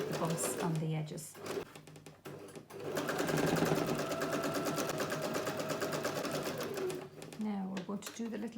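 A sewing machine stitches slowly along the edge of a Christmas card in a rapid, even mechanical run lasting several seconds. A person talks before and after the stitching.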